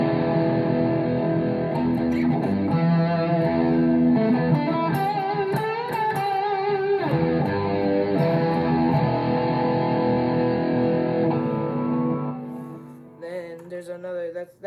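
An electric guitar played through a Headrush Core lead preset with noise gate, Boss SD1 drive, reverb and delay rings out as a sustained, melodic lead line with distorted tone and trailing echoes, alone and fading at the end.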